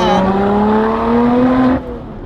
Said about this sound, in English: that exhaust note is just unbelievable.